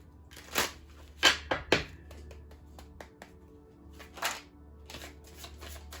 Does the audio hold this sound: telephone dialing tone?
no